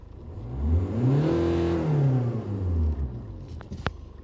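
Hyundai Accent diesel engine revving hard, its tone rising quickly and then dropping back, close and loud, followed by a couple of short clicks at the end.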